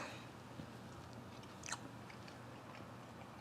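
Biting and chewing on a piece of char siu roast pork dipped in sauce, a soft close crunch midway through over steady low room noise, no talk.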